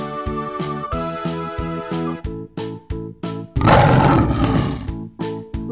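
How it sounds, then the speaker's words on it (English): A lion lets out a short, loud roar that breaks in over bouncy rhythmic background music, with the music carrying on around it. "Lion."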